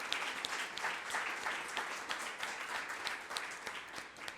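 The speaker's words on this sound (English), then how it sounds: "Please join me again in giving this amazing panel another round of applause." Audience applause for a panel at a corporate symposium on ending homelessness, a steady, fairly quiet wash of many hands clapping that carries on evenly for several seconds with no voices over it.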